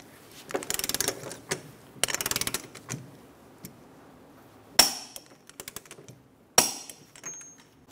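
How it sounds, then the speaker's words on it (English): Mechanical ratcheting and clicking from a torque wrench tightening the axle nut on a 2003-2007 Honda Accord during a wheel bearing and hub replacement: several bursts of rapid close clicks, then two sharp metallic snaps with short trailing clatter. "Torque the axle nut to 134 foot-pounds."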